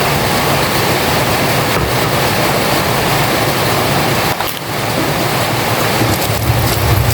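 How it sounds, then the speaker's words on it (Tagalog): Heavy rain pours steadily and loudly at a Philippine farm home, a dense continuous hiss with no letup and a brief dip midway. "Wala na pong tigil ang ulan."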